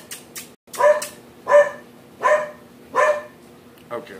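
A dog barks indoors in a run of about five sharp, loud barks spaced roughly half a second apart, close to the listener, with speech around it.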